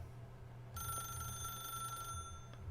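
A telephone rings in the video game The Stanley Parable Ultra Deluxe, a bright electronic bell that starts after a brief quiet moment and rings continuously for about two seconds, heard alone at low volume.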